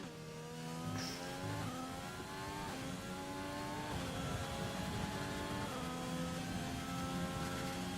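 Renault Formula 1 car engine heard onboard in F1 2020 on Xbox at the China circuit, high-pitched revving that climbs through repeated gear changes, with downshifts and tire noise.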